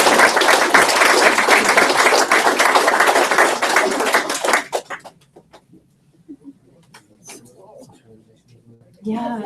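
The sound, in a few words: applause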